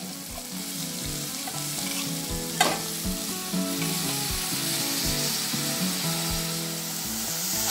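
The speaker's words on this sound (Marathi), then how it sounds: "आता यात हुलगे टाकून भाजून घेऊया." Horse gram roasting in a pan with cooked tomatoes, stirred steadily: a continuous close sizzle broken by regular scraping strokes of a spoon, with one sharper knock partway through and no voices.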